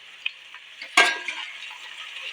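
Green chillies, coriander and mint leaves hit a hot pan for stir-frying, giving a brief sharp sizzle and a clatter of the spoon amid a quiet kitchen hiss, close by.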